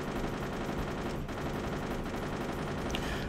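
Tesla ammo weapon fire in the Airfix Dogfighter flight-combat game, a steady rattling stream of rapid automatic shots running throughout at low volume with no talk.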